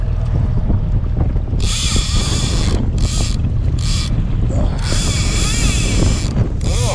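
A fishing reel's drag buzzes in long bursts as line peels off while fighting a salmon from a turning boat, heard over strong wind noise and engine rumble, close and loud.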